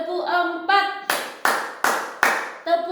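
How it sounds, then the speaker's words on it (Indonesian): Children in a classroom clap hands in unison, five sharp, evenly spaced claps in a row, loud and close, with a voice speaking before and after them. "berarti kita bertepuk 3 kali"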